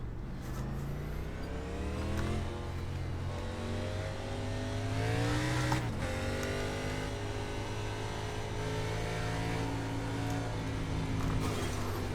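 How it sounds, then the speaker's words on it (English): A stock car engine running a lap of Interlagos in a racing game, loud and close, pitch climbing through gear changes with a sharp shift, steady and without talk. "Let's get one more lap in on brand spanking new tires."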